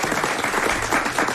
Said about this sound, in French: Applaudissements bien mérités pour cette question qui a collé les grosses têtes.